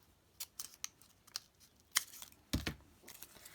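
Scissors snip through quilting fabric strips for a Bargello background: a run of short, crisp cuts at uneven intervals, close and fairly quiet, with no talking.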